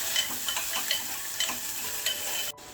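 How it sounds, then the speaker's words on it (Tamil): Onions sautéing in a pan for cabbage poriyal, a Tamil stir-fried dish: a steady sizzle with light, regular stirring scrapes, close and even, ending in a sudden cutoff, with no talking. "வெங்காயம் சேர்த்துடலாம் வதக்கி கொடுத்துருங்க"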